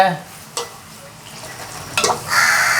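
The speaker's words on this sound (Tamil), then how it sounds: "எண்ணெயை நாங்கள் அள்ளி ஊற்ற வேணும்" Paal roti frying in oil as hot oil is ladled over it: a soft background sizzle broken by a couple of sharp utensil scrapes, then a louder, brighter sizzle surging near the end, no talk.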